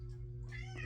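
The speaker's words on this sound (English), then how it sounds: "Oh, sorry, I got a cat there." A house cat gives a short, faint meow over a steady low hum, heard from nearby in a quiet indoor room.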